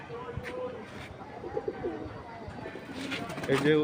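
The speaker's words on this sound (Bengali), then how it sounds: "কিছু কবুতর উড়াচ্ছি আমি" Pigeons cooing softly near and far as a handful are let loose to fly, with faint rustling and murmured talk underneath.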